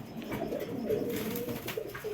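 Racing pigeons coo softly and steadily, a brief quiet stretch of low murmuring calls nearby.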